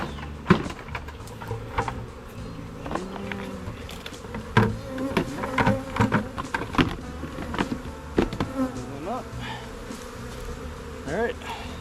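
A swarm of honeybees buzzes busily and close while being shaken or scooped into a box, with scattered knocks and bumps of the box breaking through the dense insect drone.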